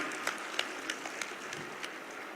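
Scattered clapping in the Lok Sabha, a few distinct claps standing out over a faint, thin background of applause, quiet and somewhat distant.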